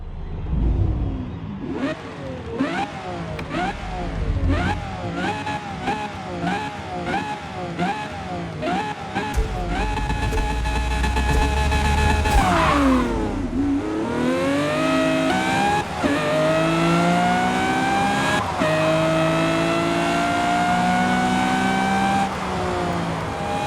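A Lamborghini Murcielago SV engine in a racing video game screams through repeated upshifts, each climb in pitch cut by a gear change, loud and close with no talking.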